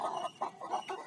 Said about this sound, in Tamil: இவங்களுக்கு இது வந்து எங்கள் வீட்டில் இருக்க கோழிங்க, நாங்கள் வளர்க்குறோம்.